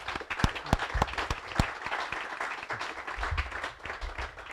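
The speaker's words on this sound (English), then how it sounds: "Could we give the Wayne County Foundation a round of applause?" Audience at a local community gathering gives a round of applause, a modest crowd clapping at moderate volume with a few sharp, close claps standing out early, then a steadier patter.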